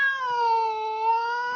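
A voice imitates a cat's meow, mimicking a puma call: a single sustained, wavering yowl with strong harmonics, loud and close, alone.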